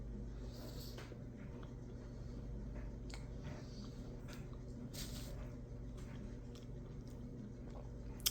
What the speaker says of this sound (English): Let me get this chewed up.